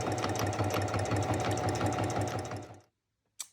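A sewing machine runs a fast, steady stitch along a cloth face mask for nearly three seconds, then halts, followed by a brief click; close by, no talking.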